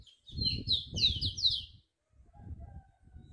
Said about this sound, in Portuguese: E aqui é o tico-tico.